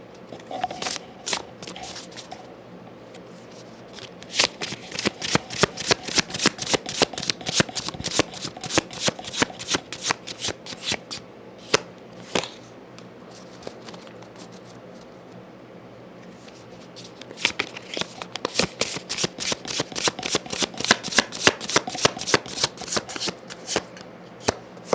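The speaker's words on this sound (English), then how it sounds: "I'm going to get a couple of cards from the Sacred Creators Oracle." Oracle cards from a Sacred Creators deck being shuffled close up, in two long bursts of rapid riffling flicks separated by a brief pause, with no talking.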